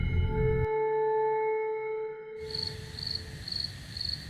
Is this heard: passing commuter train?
no